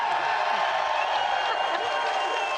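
Live crowd at an Overwatch League esports match cheering for the Los Angeles Valiant, a dense continuous roar with whoops and clapping blended in, loud and steady throughout.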